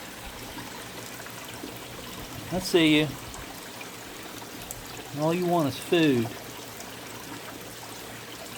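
A creek trickles in a steady, low murmur of running water close by, while a voice speaks twice over it.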